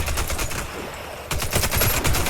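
Rapid automatic gunfire rattles in dense bursts with a brief lull, shooting zombies in the video game Warface's zombie mode.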